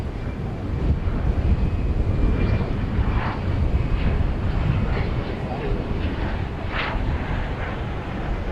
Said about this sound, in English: British Airways A380 Speedbird, as we'll see here in just a second, has been pushed back from Terminal D